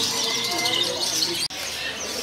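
Caged birds, including canaries, chirp and tweet densely at a bird shop kiosk, a busy continuous chorus close by, with voices faintly mixed in.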